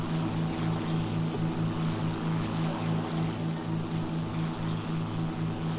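Propeller plane engines in the War Thunder video game, tier 2 US aircraft, drone steadily and loudly throughout with a pulsing low hum and no talk.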